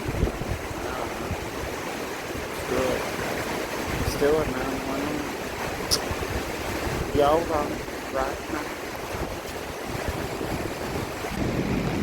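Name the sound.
rushing water of the LA River during a storm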